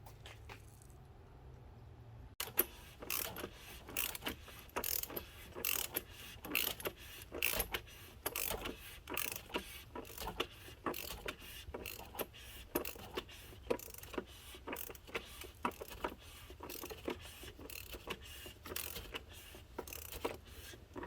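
A ratchet tightens the oil drain plug on a Toyota Supra with a long run of quick, steady clicking pawl strokes after a brief quiet start, close and moderately loud, no talking.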